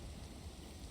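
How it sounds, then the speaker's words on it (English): Rain falling in the zombie survival video game Project Zomboid, a steady dense hiss of rainfall with a low rumbling undertone, continuous and even throughout. "it's raining outside"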